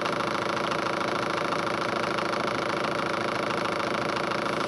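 Four-pole Newman motor running on back EMF from a Newman generator, a continuous, steady mechanical hum with a fast fluttering buzz, loud and unchanging throughout.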